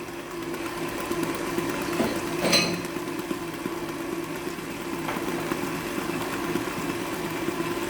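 An electric mixer blends liquid ingredients for an island carrot cake, a steady mid-level motor hum running throughout with a brief louder clatter partway through and no talking.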